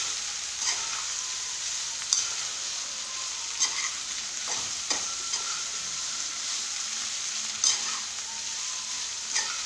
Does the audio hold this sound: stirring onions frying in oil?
yes